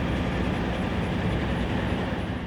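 Alco C420 diesel locomotives of the Arkansas & Missouri Railroad chug through the Ozarks, including units built in 1964 for the Lehigh Valley, making a steady, loud, close rumble that runs without a break.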